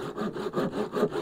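A handsaw cuts through the bottom of a wooden walking stick in about five even back-and-forth strokes, a close, quiet rasping with no voices.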